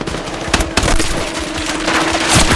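Automatic gunfire from a weapon with infinite ammunition in the video game Battlefield 6 fills the moment, loud bursts of rapid shots against a dense battlefield backdrop.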